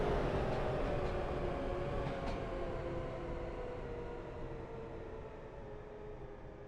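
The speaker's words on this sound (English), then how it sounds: "Another AI train coming in." A computer-controlled train pulls in during the Running Train video game, heard as a steady broadband rumble with a faint tonal hum that slowly fades. No talk.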